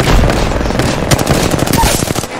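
Rapid automatic gunfire in the video game Apex Legends, a loud, dense burst of repeated shots rattling steadily for a couple of seconds with no talk over it.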